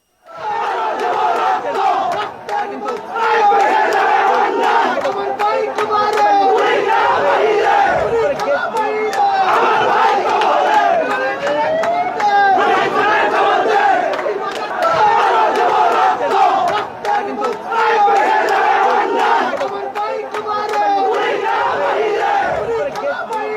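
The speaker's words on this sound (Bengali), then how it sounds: "ওঠে মুজিব বিরোধী স্লোগান" A large crowd at a protest chanting anti-Mujib slogans in unison, loud and near, with rhythmic shouted phrases repeating continuously across the whole stretch.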